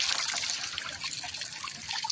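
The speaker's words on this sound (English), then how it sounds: "All that water is going to go over your laundry room floor." Water spills and trickles out of a Whirlpool Duet washer's drain pump area onto a laundry room floor, a steady splashing pour with bright, fluttering detail, fairly close and continuous throughout.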